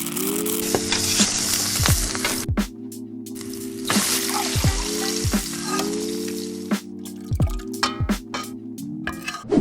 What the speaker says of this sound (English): you're gonna let the peas cook with the onions and the starchy water